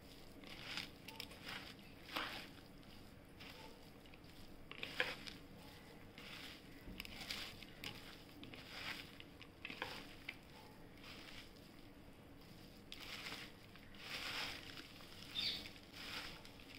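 Poha with cucumber, sugar, green chillies and lemon juice is stirred in a pan, giving soft scraping and patter sounds in irregular bursts, faint and close, with no talk.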